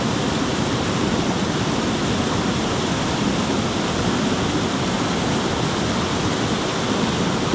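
Hareshaw Linn waterfall in full spate after rains, a dense, steady roar of falling water heard close and loud throughout, with no voices.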